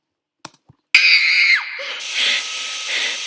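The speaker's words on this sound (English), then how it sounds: "hear the scream" A few faint clicks come first, then a sudden loud, high scream sound effect in a video clip bursts in and holds before tailing off into a hissy sustained noise.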